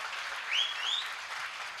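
An audience at a Gujarati stand-up comedy jokes show applauds in a short, dense, even burst of clapping.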